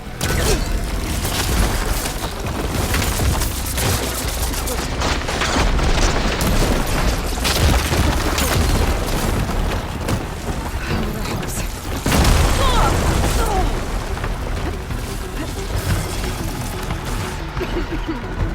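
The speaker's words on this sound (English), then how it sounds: "Hopefully this one will fire a few shots from that ballista" Ballista shots hammer at a giant machine in the video game Horizon Forbidden West, heavy booms and bursts layered over continuous loud combat noise and mechanical clatter, with a character's voice talking over parts of it.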